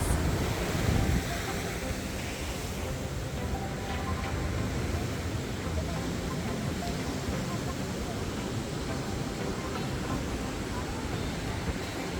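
Rough ocean surf at Fort Tilden Beach, a continuous loud roar of breaking waves mixed with wind buffeting the microphone throughout.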